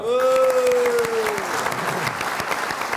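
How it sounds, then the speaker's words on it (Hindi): A studio audience bursts into applause that continues steadily for a few seconds, loud and close, while a sustained musical tone fades underneath. "बहुत सारी तालियां।"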